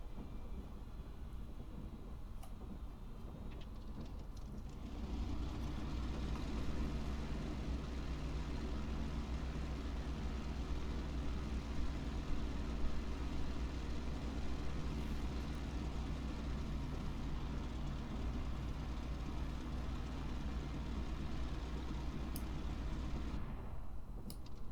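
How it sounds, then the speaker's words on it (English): An F4U Corsair aircraft's piston engine warming up, a steady loud rumbling drone that starts a few seconds in and holds evenly, with a brief quieter stretch before it and a drop near the end. "Gonna let the engine warm up."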